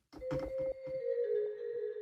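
A synthesized tone with a bright sustained pitch and fuzzy, fragmented texture, shifting slightly partway through, ringing out alone.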